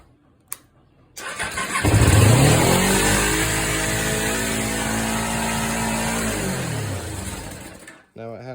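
Kawasaki Ninja 250 motorcycle engine cranking and catching, then holding a high, steady idle for several seconds with a strong even drone before cutting off, with a voice briefly heard at the end.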